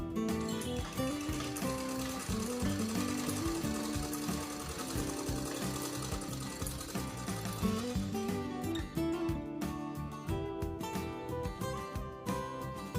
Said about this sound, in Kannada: ಇದನ್ನ ಫಸ್ಟು ನಾನು ಈ ತರ ಒಂದ್ ಸ್ವಲ್ಪ ಸ್ಟಿಚ್ ಮಾಡ್ಕೊತೀನಿ